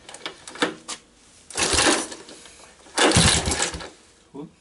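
A 1985 Honda ATC 200S three-wheeler's small engine is cranked with the choke on, giving two long, loud bursts of churning cranking separated by quiet gaps, with brief clatters and some speech around them.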